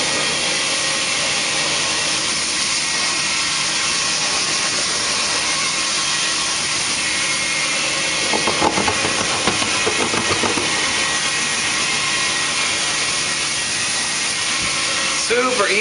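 A Rotovac 360i carpet cleaning machine runs on carpet with a steady, loud whirring hiss like a vacuum, and a brief burst of scrubbing texture partway through.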